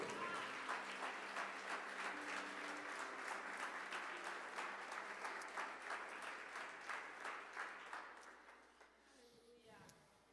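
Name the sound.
church congregation applause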